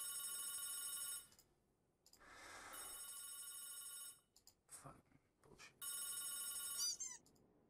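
An old-style telephone rings in a fan-made Five Nights at Freddy's horror game, its bright electronic bell sounding in three separate bursts. Quieter gaps with faint sounds fall between the rings.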